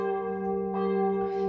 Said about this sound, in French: Je suis désolée pour les cloches.